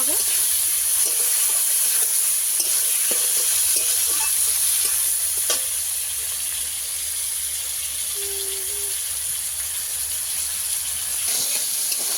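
Raw tomatoes frying in a pan for a village-style bele fish curry, giving a loud, continuous close sizzle and hiss that stays steady throughout, with a faint occasional clink of stirring.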